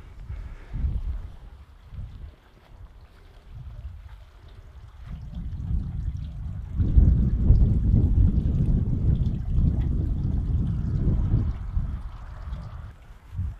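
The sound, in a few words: running water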